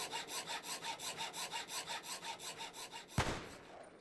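A hacksaw saws in Cataclysm: Dark Days Ahead, giving a fast run of even back-and-forth rasping strokes. It ends in a sharp louder crunch and a fading tail.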